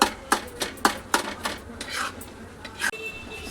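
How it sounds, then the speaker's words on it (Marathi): A spoon scrapes and clanks against a pan while a jaggery mixture is stirred and roasted, a run of sharp metallic knocks in an uneven rhythm up close, followed by softer scraping. "परतून घ्यायचं."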